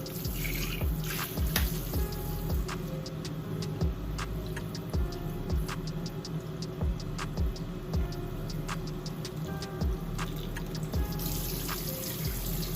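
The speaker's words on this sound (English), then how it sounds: "So right now I'm gonna rinse my hair off." Running water rinses hair during a wash with a do-rag on, heard as a steady close hiss with irregular drips and splashes throughout.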